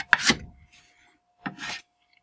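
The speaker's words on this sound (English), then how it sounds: "I scrape that off while it's still warm." Warm excess wax is scraped off the end of a ski in two quick strokes, each a short, bright rasping scrape close by, separated by a second of near silence.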